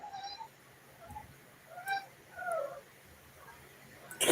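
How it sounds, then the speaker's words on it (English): A cat makes unusual high squealing cries, several short faint squeaks spread across a quiet room in the background. "Probably my cat."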